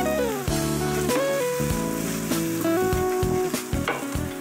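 Garlic sizzles in a hot pan while being stirred, a steady frying crackle under a backdrop of music with scattered scraping knocks of the spoon, close and moderately loud.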